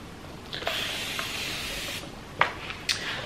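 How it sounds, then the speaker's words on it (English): Water spritzed from a handheld spray bottle onto damp hair, heard as several short, close, hissy pumps with brief pauses between them and no talking. "I'm gonna spray my hair down with some water"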